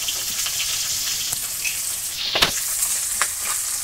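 Cumin seeds dropped into hot oil in a home kitchen pan sizzle and crackle steadily, a close, bright hiss with a few sharper pops and a brief clatter partway through, no talk.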